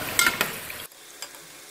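Chicken frying in a pan for a boneless handi gives a soft sizzle with a few stirring clinks before it drops abruptly to a faint hiss.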